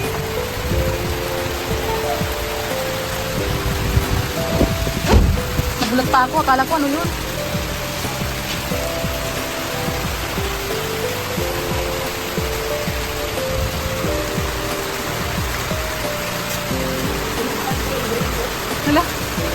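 Heavy rain pours in a steady, dense roar at a house site, loud and unbroken throughout, while people talk over it now and then.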